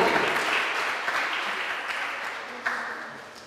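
Sustained applause from an audience at a mushaira honouring women poets, a steady crowd clapping that slowly tapers, with no talk over it.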